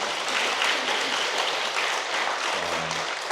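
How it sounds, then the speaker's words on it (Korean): Congregation applause at a New Year fasting prayer service in a church, a full, even roar of many hands clapping steadily for a few seconds. "하나님께 영광의 박수 한번 올려드리겠습니다."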